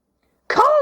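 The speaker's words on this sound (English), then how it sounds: "He sneezes for the first time." A single short, voiced sneeze, acted by a male performer in a stage dramatization of Alice in Wonderland's courtroom scene. It bursts in suddenly after silence, close and loud.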